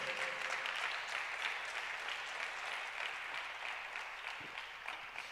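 Church congregation applauding during a Spanish-language sermon, a steady, dense wash of clapping that holds evenly and tapers slightly near the end, fairly distant and without talk.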